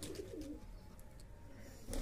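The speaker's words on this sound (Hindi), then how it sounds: "ये सहारनपुरी कबूतर है दोस्तों" Low, soft Saharanpuri pigeon cooing repeats steadily close by, a throaty murmur over faint background noise.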